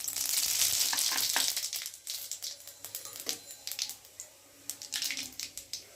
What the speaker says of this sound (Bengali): দেখো বন্ধুরা, ফোড়নটা বেশ ভালোভাবে ভেজে নিয়েছি।